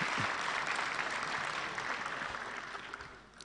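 An audience applauds at a New Year's nostalgia concert, dense sustained clapping from a full hall that stays steady and then thins out toward the end, with no voices over it.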